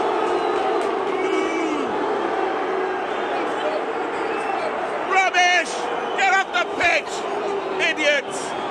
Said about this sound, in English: Other fans in the crowd begin booing at this frolicsome disruption